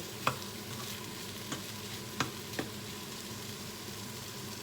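Pumpkin stir-fried in a pan with egg, a steady soft sizzle throughout broken by a few sharp clinks of a utensil scraping and stirring.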